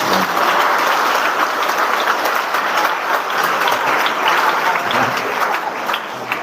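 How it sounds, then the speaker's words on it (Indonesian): A congregation applauds at a church farewell and welcome ceremony for parish priests, giving dense, continuous clapping that stays loud and steady throughout before easing slightly at the end. "Tepuk tangan."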